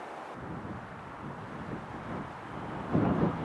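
Wind gusting through eroded rock formations along a back road, a steady low rushing roar with a slightly stronger gust near the end, heard alone without voices.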